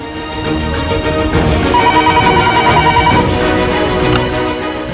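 A telephone rings with a repeating electronic trill, heard over a loud, steady background of music.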